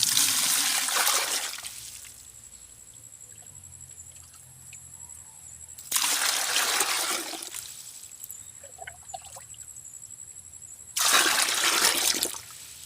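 Water drawn from a well is poured out to water plants in a rural Bicol garden, coming in three loud gushing bursts separated by quiet gaps.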